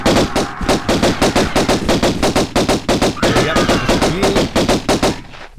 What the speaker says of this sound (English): get your guns out, because there's two raptors that come through here